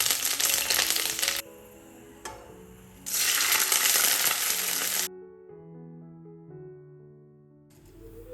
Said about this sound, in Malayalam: സെയിം പ്രോസസ്സ് ഉള്ളി, മുളക്, കറിവേപ്പില ഇതും അതുപോലെ തന്നെ പൊരിച്ചെടുക്കുക